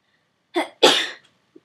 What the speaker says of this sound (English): I sneezed again